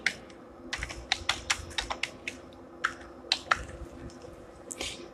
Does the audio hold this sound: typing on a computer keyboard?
yes